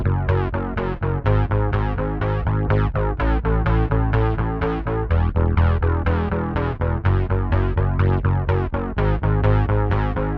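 Electric bass guitar through a delay pedal fires rapid repeating notes with hard percussive attacks, a steady sequencer-style pulse played loud and alone.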